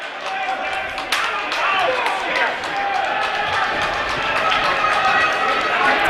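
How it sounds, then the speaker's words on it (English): A crowd at a school wrestling meet in a gym roars steadily with cheering and shouting, sustained and loud with a few sharp claps or slaps, while commentators talk over it. "Crowd seems to be getting into it as well. Yeah, they are. I tell you, it's as loud as we've gotten right here."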